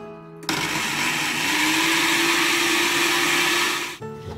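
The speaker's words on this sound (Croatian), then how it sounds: "Kekse meljem u više tura da bi se što bolje samljeli" A blender grinds butter biscuits, switching on abruptly with a loud, steady high-pitched whir whose motor tone rises slightly as the crumbs break down, then cuts off sharply near the end.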